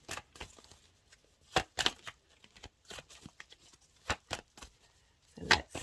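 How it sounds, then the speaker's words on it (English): Tarot cards shuffled by hand, with irregular crisp riffling slaps and soft paper flicks in uneven bursts, close and fairly quiet in a still room. "I'm just going to shuffle for a little bit"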